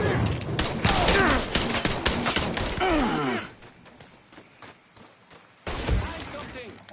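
Rapid bursts of gunfire in the video game Mafia 3, loud close volleys for the first few seconds, then fainter scattered shots before another loud burst near the end.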